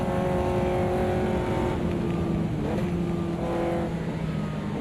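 Race car engines roar continuously in Automobilista 2, a pack of cars running close together with steady, loud harmonic drones that shift pitch as they rev, without any talk.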